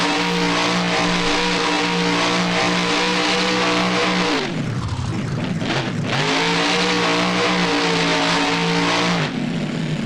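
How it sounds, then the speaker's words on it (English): A monster truck in the BeamNG driving game spins donuts, its engine held at a loud steady rev with harmonic whine, briefly dropping and surging back midway before settling again. "Avenger's gonna treat us to some donuts now"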